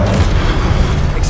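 Booming spell explosion from the wizarding video game Hogwarts Legacy on PS5, a loud, heavy low rumble that fills the whole short moment, with a faint crackle at its end.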